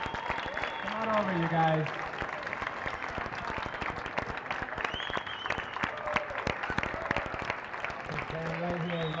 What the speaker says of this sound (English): Can we get a round of applause as our athletes make their way?